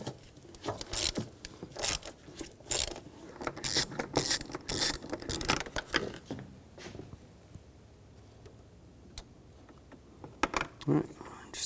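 Ratchet wrench with a 10mm socket backing a bolt out of a 2007-2013 BMW X5 3.0L inline-six during valve cover work, giving quick repeated clicking bursts close up, then quieter handling.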